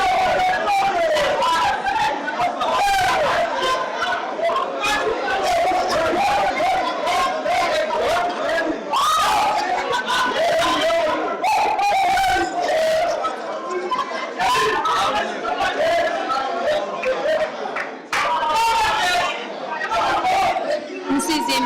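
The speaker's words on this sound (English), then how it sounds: "Crowd is getting noisier and more excited now." A packed crowd at a challenge match chatters and cheers throughout, the noise swelling into excited shouts and whoops with bursts of louder yelling across the whole stretch.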